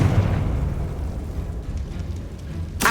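A Confringo blasting spell explodes in Hogwarts Legacy, a dense rumbling boom that fills the moment, followed by a sharp burst at the very end.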